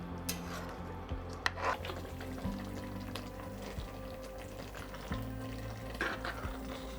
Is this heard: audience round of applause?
no